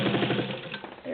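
A vintage Singer 15-91 sewing machine stitching over thick seams, a close, rapid mechanical chatter of the needle that holds steady and then briefly slows near the end.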